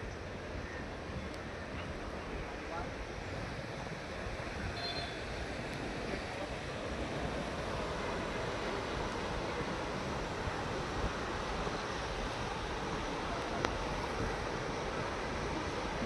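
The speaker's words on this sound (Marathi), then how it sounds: "घोड नदी सर्वदूर दुथडी भरून वाहत आहे." The flooded Ghod river at Kalamb rushes past in a steady, broad roar of churning water, fairly distant and constant, with some wind buffeting the microphone.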